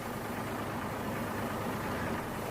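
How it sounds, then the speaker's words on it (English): A lorry engine idles on a foggy night, a steady low rumbling drone at moderate distance with no variation and no voices. "isn't that a lorry engine ticking over?"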